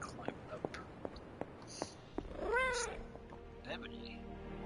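A cat meows within the video game Midnight Suns, one drawn-out wavering meow midway and a shorter one later, close and clear over light clicks and soft whispery voices.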